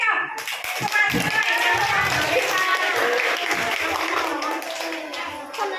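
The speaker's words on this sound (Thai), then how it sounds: "อีกสองคนนะคะขอเสียงปรบมือให้" Steady applause from an audience at a school science week event, dense clapping continuing throughout with some voices mixed in.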